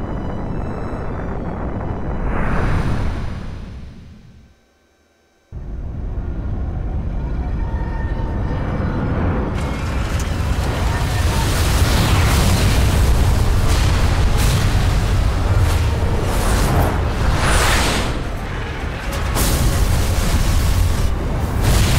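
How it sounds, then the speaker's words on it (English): Explosion in the video game Final Fantasy XII: a deep booming blast with a long roaring rumble, a brief drop to near silence, then a sustained loud roaring wash that swells and fades. "Explosion!"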